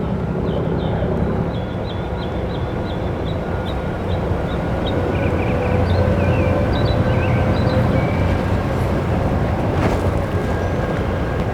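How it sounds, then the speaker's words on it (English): Diesel engines of river boats rumble in a steady, broad drone early in the morning. Faint high chirps flicker above the engine noise. "Diesels are working."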